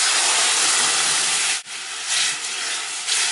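Tomato pulp hitting hot oil with asafetida, ginger, coriander and red chili powder in a pan, a loud hissing sizzle that briefly cuts out, then bursts back into steady spattering.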